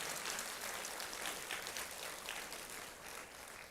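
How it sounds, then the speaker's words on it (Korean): A church congregation at an evening prayer service claps in a thick, continuous wash of applause, steady and fairly full, with no talk over it and a slight tapering near the end. "우리 하나님께 감사의 박수 올려주시면 좋겠습니다"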